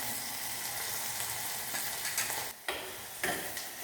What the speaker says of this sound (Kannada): ಜಿಂಜರ್ ಗಾರ್ಲಿಕ್ ಪೇಸ್ಟ್ ಹಾಕಿದ್ಮೇಲೆ ಅದರ ಜೊತೆ ಒಂಚೂರು ಮಿಕ್ಸ್ ಮಾಡ್ತೀನಿ